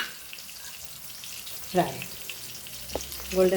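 Rava-coated prawns frying in a pan for a Goan prawn rava fry, a soft steady sizzle with a brief clatter and a voice speaking near the end, close and short.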